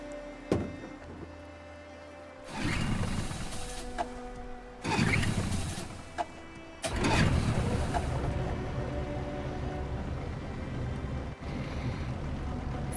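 A boat engine starts up in the video game Detroit Become Human, with bursts of churning noise before it settles into a steady, loud running drone with water wash.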